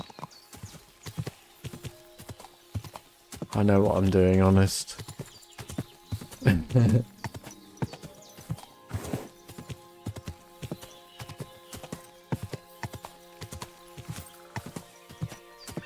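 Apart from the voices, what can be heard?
horse galloping in video game Kingdom Come Deliverance II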